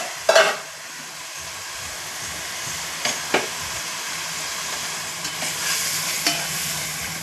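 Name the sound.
stirring cooked beef into a frying pan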